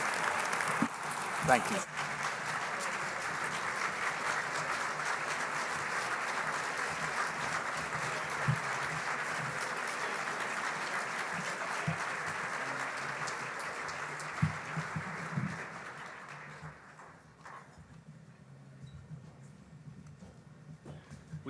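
A gala audience gives sustained applause for a governor at an anniversary event, a dense roomful of clapping that holds steady before tapering off near the end, with a brief spoken thanks.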